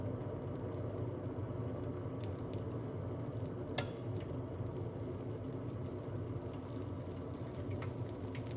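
Liquid boils steadily in a pot, a dense continuous bubbling and crackling hiss with a few sharper pops, close by and without speech.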